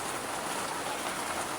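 Steady rain pours down on a house with a leaking roof, a dense continuous hiss with no breaks, heard alone at moderate level.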